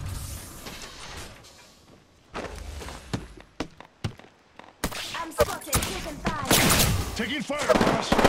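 Gunfire in the video game Apex Legends, with bursts of rapid shots, sharp single cracks and thuds. It starts sparse and quiet, then turns loud and dense in the second half, mixed with footsteps and in-game voice lines.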